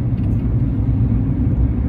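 Low, steady road rumble and engine drone heard from inside a moving car, continuous and fairly loud with no voices.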